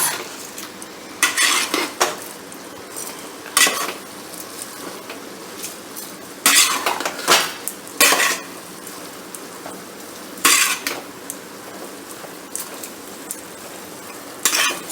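Vermicelli and vegetables are stirred in a pan, with repeated bursts of spoon scraping and clattering against metal over a quiet background sizzle, close up and without speech.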